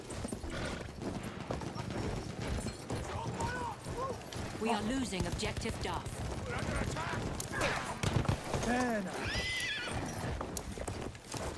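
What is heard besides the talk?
horse hooves galloping in Battlefield 1 video game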